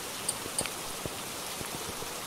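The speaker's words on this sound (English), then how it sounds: "No, that it's raining outside." Steady soft rain patters outside, a faint even hiss with scattered drops, no voices.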